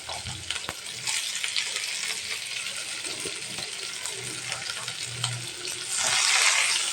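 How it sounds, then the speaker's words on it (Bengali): Chopped onion frying in hot oil in a pan after the fish is lifted out, a close steady sizzle with occasional clinks and scraping, and a louder hiss near the end. "এখন পেঁয়াজের কুচিটা দিয়ে দিচ্ছি ওই গরম তেলে।"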